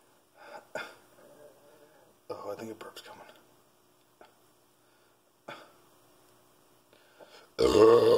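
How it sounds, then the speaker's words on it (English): A man belches loudly at the end of a long stretch of his own scattered talk and small noises, following a lost fantasy football bet. "I gotta burp so bad."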